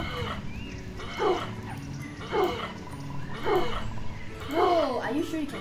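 A dog in the Roblox game Pet Story gives a series of short barks and whimpers, repeated at roughly one-second intervals over a continuous game background with voices speaking.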